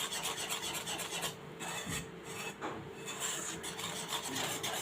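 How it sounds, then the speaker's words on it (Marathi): Rava cake batter with maida being mixed in a bowl, a continuous close rasping scrape of stirring strokes, quiet and steady, with no talking. "आता हे बॅटर सर्व मिक्स करून घ्यायचं आहे"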